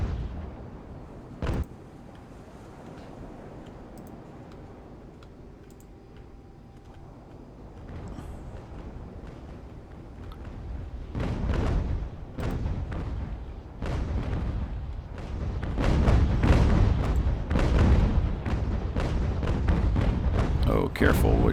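Cannon fire from sailing warships in Ultimate Admiral: Age of Sail booms in a naval battle, scattered at first, then dense rolling volleys that grow louder toward the end, with someone talking over parts of it.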